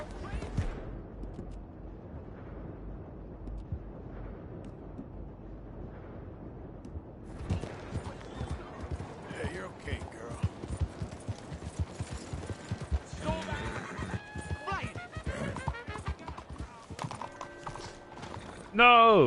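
Horse hooves clip-clop at a walking pace in Red Dead Redemption 2, steady and fairly close, with faint mechanical creaks alongside and a brief louder sound at the very end.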